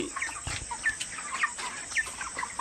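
Poultry chickens on a farm cluck and chirp in short, repeated bursts, fairly close and steady, with a faint background hum and no voices.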